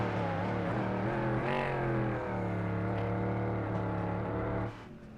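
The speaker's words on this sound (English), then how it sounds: "The engine is loud." Race car engine in the iRacing sim, a steady loud harmonic drone that holds near-constant pitch with slight shifts through gears, then drops away near the end.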